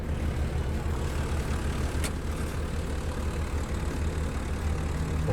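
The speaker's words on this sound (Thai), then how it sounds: "เดี๋ยวเดี๋ยวดูเครื่องยนต์กันสักหน่อยนะครับ" A 2013 Komatsu PC120-8 excavator's diesel engine idles with a steady low rumble, constant and moderately loud, with no voices.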